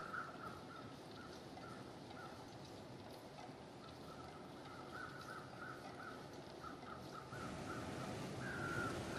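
Crows caw repeatedly in the coastal wilderness of the survival game The Long Dark, a series of bright, mid-distance calls over a steady wash of wind and surf, no voices present.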